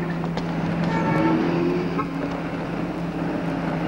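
A moped engine runs steadily and continuously at close range with a low droning hum, no talking over it.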